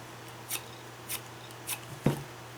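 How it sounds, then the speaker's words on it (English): Scissors cut a small strip, about a quarter inch, off the edge of paper while making a papercraft box, three crisp evenly spaced snips followed by a sharper final clip, close and clear with no talking. "I'm just going to cut a small, like maybe 1/4 inch piece off the edge."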